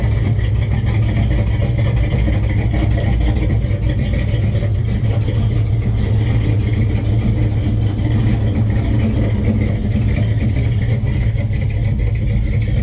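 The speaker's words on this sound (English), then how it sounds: "But there's your fucking cold start." A 1970 Chevrolet Chevelle idles low and steady after a cold start in January, its loud, rumbling engine running continuously and unchanged, close to the microphone, with no talk over it.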